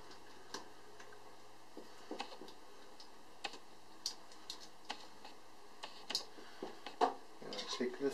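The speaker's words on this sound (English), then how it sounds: "Gonna take these little screws off." Small screws being removed from a DJI Phantom 3 Standard drone during a teardown, scattered light ticks and clicks of a screwdriver and tiny plastic parts, close and sparse, with faint background noise.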